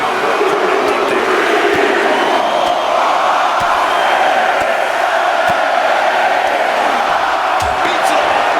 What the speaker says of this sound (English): now she's feeling the energy from the crowd